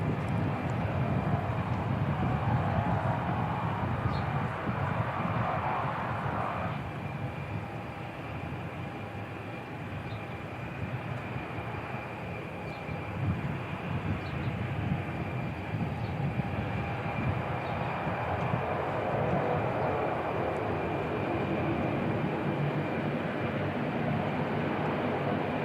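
Air New Zealand flight NZ5775 from Napier landing at Christchurch Airport, a loud continuous roar of jet or turboprop engines that holds steady and shifts slightly in tone as the aircraft passes, with no talking.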